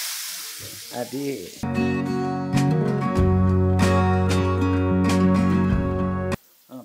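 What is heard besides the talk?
onions frying in oil in a pan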